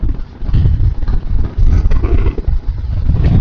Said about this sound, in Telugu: ఈ హెల్మెట్ లో విండ్ సౌండ్ కి ఈ సౌండ్ కి బండి సౌండ్ మారిపోయింది